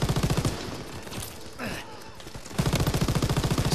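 Machine gun fire in Call of Duty WWII: rapid, evenly spaced rounds in a loud sustained burst, a lull of about two seconds with other game noise, then another steady burst.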